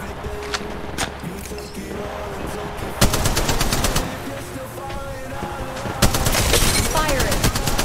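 Rapid automatic gunfire from Apex Legends Mobile gameplay, loud bursts with sharp volleys near 3 and 6 seconds over a dense mix of shots and game effects.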